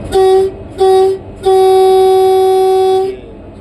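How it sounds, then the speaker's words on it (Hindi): A loud locomotive horn blows two short blasts, then one long sustained blast, steady and close. "ये हॉर्न तो हम लोग कब बजाएंगे?"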